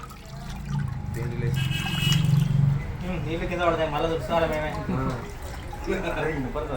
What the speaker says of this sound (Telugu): కారుతున్నాయా నీళ్ళు